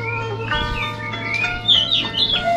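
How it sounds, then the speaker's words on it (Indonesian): Several birds chirp and tweet in short bright calls over a low steady hum, fairly close, beside a rice field. "Suara burung."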